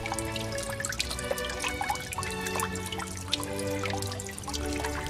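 A backyard waterfall water feature driven by a pump gives a soft, continuous trickle and patter of falling water with bright droplet plinks, steady and fairly quiet nearby.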